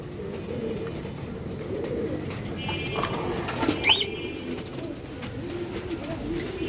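Pigeons coo in low, repeating throaty murmurs at a pigeon loft, several birds close by, with a brief higher chirp partway through.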